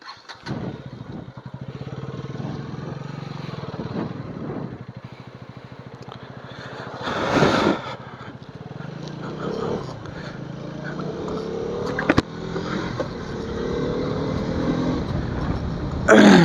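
KTM Duke motorcycle ridden solo along a ghat road, its engine buzzing and revving up and down with wind and road noise, rising to louder bursts, and some speech mixed in.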